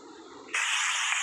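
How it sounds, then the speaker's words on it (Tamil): Pepper spray blasts in the Granny video game, a sudden loud steady hiss that starts partway through after a quieter murmur and holds for most of a second. "pepper spray"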